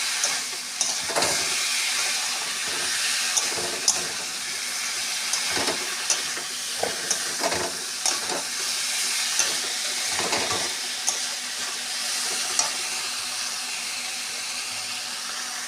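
Water poured into fish head curry with potatoes frying in a pan, a steady loud sizzle and hiss with intermittent stirring scrapes and clinks throughout.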